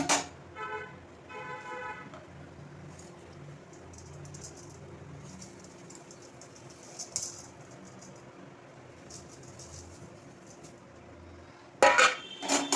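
A spoon scrapes and clinks against a metal pot of vermicelli upma in soft, irregular strokes, with a few sharper clanks near the end and faint background noise.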